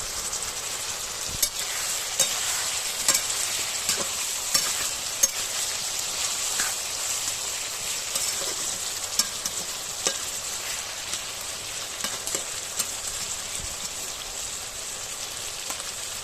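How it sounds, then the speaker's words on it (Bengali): Potato and pointed gourd pieces sauté in a pan with a constant crackling sizzle and scattered clicks of stirring, close and steady throughout with no talking. "এখন সবজিগুলো একটু কষিয়ে নেব"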